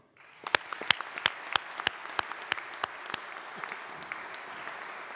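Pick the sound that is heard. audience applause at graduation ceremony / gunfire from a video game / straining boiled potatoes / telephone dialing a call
audience applause at graduation ceremony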